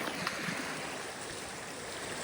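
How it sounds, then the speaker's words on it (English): A mountain spring trickling down from the mountaintops into a creek in a canyon, a steady, soft broadband rush of running water close by, with nothing else standing out. "That's a mountain spring just trickling down from the mountaintops."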